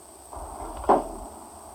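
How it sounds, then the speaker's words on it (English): A car trunk lid slams shut in one short, solid thud after a brief rustle, loud and close in an otherwise quiet space. "I slammed down the lid of the trunk"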